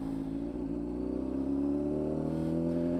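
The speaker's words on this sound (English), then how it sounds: "Well, you're going to apply a bit of throttle." A motorcycle engine revs up steadily as throttle is applied, its drone rising in pitch over a few seconds, close and continuous with no talk.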